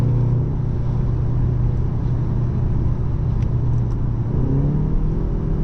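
A 2025 BMW M235 Gran Coupe with a dual-clutch gearbox drives on, its engine a steady, loud, close rumble through the downshifts, with no voices over it.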